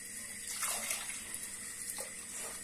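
Water pours steadily into a pot for bulgur pilaf served with köfte, a continuous splashing rush with brighter surges, close and fairly loud, with no talking.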